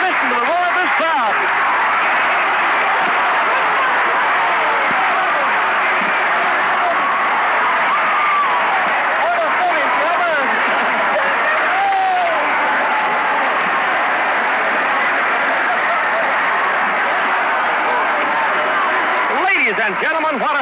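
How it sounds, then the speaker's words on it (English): A packed crowd at a 1967 state championship basketball game roars and applauds after the winning shot, a loud sustained wall of cheering with a commentator talking over it. "Listen to the roar of this crowd."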